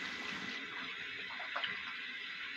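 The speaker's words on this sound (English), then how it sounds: "That's some water." Water runs from a tap into a sink in a home during a morning routine, a steady soft hiss that continues throughout with a slight splashy swell midway.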